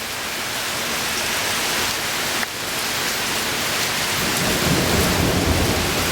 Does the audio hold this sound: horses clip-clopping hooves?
no